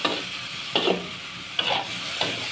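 Pad thai with pork, shrimp and Korat rice noodles stir-fried in a hot pan sizzles loudly and steadily, broken by a few distinct scraping stirs of a spatula, without speech.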